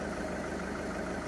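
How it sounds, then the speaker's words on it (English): A parked car's engine left running while unattended, a steady low idling rumble with a faint regular pulse, close and constant throughout with no voices. "She left the car and she went shopping without turning off the engine."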